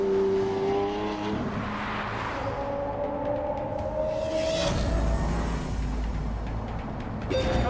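A hybrid supercar in The Grand Tour Game video game drives with rising and falling engine tones, shifting pitch as it accelerates, then a sudden rush of tire and road noise midway.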